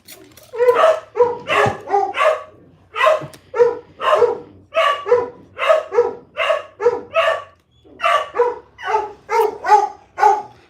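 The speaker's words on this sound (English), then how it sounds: "I love how they let one bark and then the other barks." Two dogs bark loudly and close by in a steady back-and-forth rhythm, one answering the other, with no overlapping barks.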